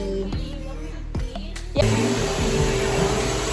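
A few clicks and knocks come first, then a household vacuum cleaner starts up for house cleaning and runs as a steady, loud whirring drone.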